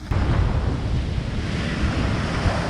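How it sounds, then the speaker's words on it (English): Giant sea waves driven by Cyclone Yas crash against the West Bengal coast, a loud, continuous roar of surf with heavy wind buffeting the microphone and no gaps throughout. "Giant waves from Cyclone Yas destroyed the boardwalk in West Bengal, a furious warning from the raging sea."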